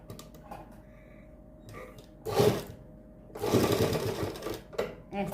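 Sewing machine stitching cotton lace onto a suit in two short loud bursts, the second one longer, with quieter handling sounds between them.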